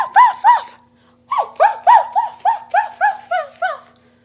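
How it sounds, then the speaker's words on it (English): A pet dog indoors barks in quick, loud, close bursts: two sharp barks, a short pause, then a rapid run of about nine more yaps at a steady rhythm. "sometimes she'll bark for no reason"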